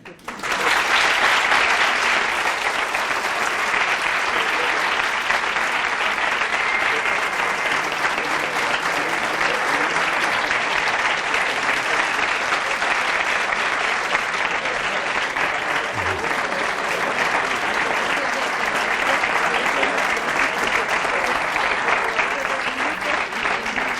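An audience in a lecture hall gives steady, sustained applause after a talk on mathematics, a dense wash of clapping hands that holds at an even level throughout.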